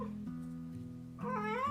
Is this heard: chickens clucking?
no